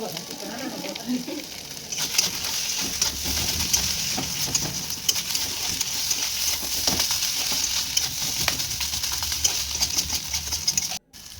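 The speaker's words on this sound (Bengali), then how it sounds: "এটা দেখে আমি ভালো মতো করে একদম ফ্রাই করে নিচ্ছি যাতে মশলার সাথে থোড়গুলো একদম ভালো মতো" Banana stem pieces frying with spices in a pan give a steady, close sizzle with light stirring scrapes, broadband crackle continuing throughout with no voices.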